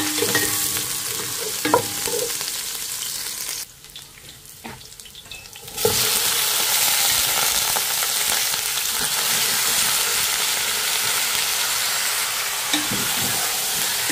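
Onion, garlic and ginger dropped into hot oil for a chicken dish: a loud, dense, continuous sizzle that dips briefly to a quieter hiss, then surges back and holds steady, close by.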